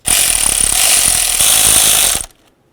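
A power tool snugs nuts onto coil bracket studs on a 1994-2004 Chevy S-10, a loud continuous rattling whir for about two seconds that stops abruptly into near silence.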